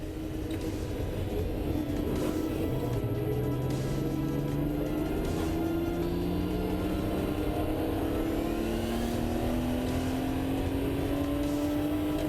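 A Porsche 964 gets away at a historic race start at Paul Ricard, its engine roaring loud and constant while the pitch climbs through the gears, with other cars droning around it.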